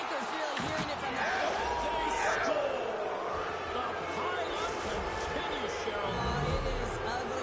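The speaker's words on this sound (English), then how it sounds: "You can hear the booing tonight in this building." A hockey arena crowd booing its own home team: a dense, sustained roar of voices fills the building while a play-by-play commentator talks over it.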